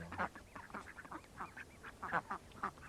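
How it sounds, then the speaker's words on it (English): Several ducks quack in short, repeated bursts, fairly close, with uneven rhythm and no talking. "ducks are real fun to watch, and their families and the way they cohabitate with each other"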